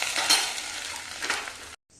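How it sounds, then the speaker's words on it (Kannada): Hot mustard seed tempering is tipped into a bean and coconut curry and sizzles loudly for about two seconds, then cuts off abruptly into silence. "ಒಗ್ಗರಣೆ ತೆಗೆದು ಕಾಯಿ ರಸಕ್ಕೆ ಹಾಕೋಣ."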